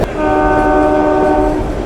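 Kalka–Shimla toy train sounding a sustained horn for nearly two seconds over the running rumble of the carriages, loud and close.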